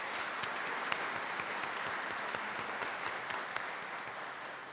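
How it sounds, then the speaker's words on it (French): Moderately distant applause from a church congregation at an Easter Sunday service, a soft steady patter of many hands with a few sharper individual claps standing out. "on les applaudit s'il vous plaît"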